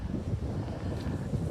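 Wind gusting across open fields on a dull, cold day, a steady low rumble buffeting the microphone throughout with no voices.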